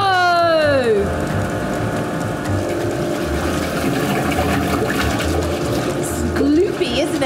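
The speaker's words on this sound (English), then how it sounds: "That's because the disperser blade is spinning really fast and it makes a lot of noise." A paint disperser blade spins fast in an industrial paint mixer, giving a loud, steady churning roar throughout while a voice talks over it.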